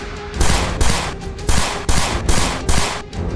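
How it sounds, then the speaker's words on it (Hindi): Rapid volley of gunshots from a street shooting captured on CCTV, about eight sharp loud bangs in quick succession with brief echoing decay between them, no voices. "एक साथ कई फायर किए गए।"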